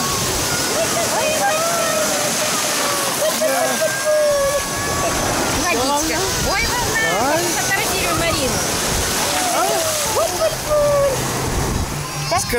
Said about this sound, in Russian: Детки купаются, да, маленькие.